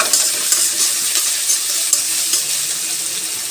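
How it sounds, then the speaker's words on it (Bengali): Mustard oil sizzling in a frying pan while cooking loté fish: a steady, close hiss and crackle that continues evenly throughout with small pops, with no talking. "এখন তেল দিয়ে দিয়েছি সর্ষের তেল"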